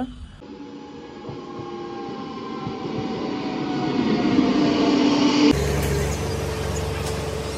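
An express train running from Kazipet to Vijayawada rumbles and clatters along the rails with a faint metallic squeal, growing louder before the sound abruptly shifts near the end.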